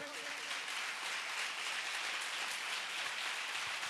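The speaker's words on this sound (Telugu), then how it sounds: "శక్తి కొలది చప్పట్లు కొట్టండి" Church congregation clapping together during worship, a continuous fairly faint wash of many hands, steady and even throughout.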